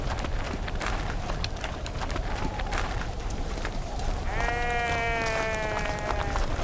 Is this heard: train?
no